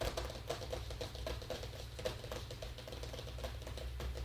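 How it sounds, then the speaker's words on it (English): Laptop keyboard typing, quick irregular key taps in a steady patter, close and fairly quiet with no voices. "Yeah, that's Nikki's real typing."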